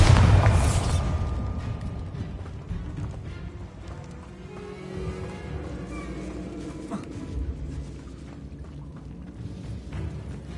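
A Bombarda spell detonates in the Hogwarts Legacy video game on PS5, a loud booming blast at the start that decays into a low rumbling tail with game ambience behind it.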